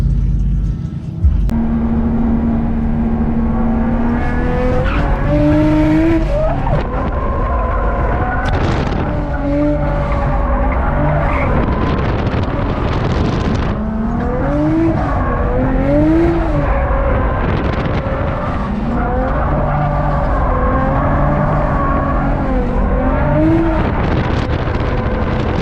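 500 hp BMW E90 335i drifting on a track, engine roaring and revving continuously as the tires squeal in long wavering howls through each slide, heard from inside the car.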